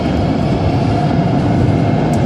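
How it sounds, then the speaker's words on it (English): A train rolls past in an old city block, a steady, loud low rumble sustained throughout with no pauses or voices. "Oh, here comes the train."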